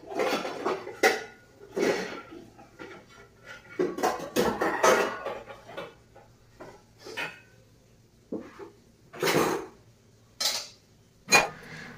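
Dishes, pots and pans are washed in a Bengali home kitchen, with irregular bursts of clanking metal, clinking utensils and scrubbing, close and fairly loud, with quiet gaps between and no talk.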